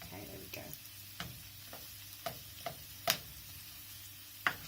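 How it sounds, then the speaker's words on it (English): Food frying in a pan on a stove, stirred and separated with a plastic spoon, giving a steady low sizzle broken by sharp spoon taps and scrapes against the pan. "So if you hear them sizzling away, turn your heat down a little bit"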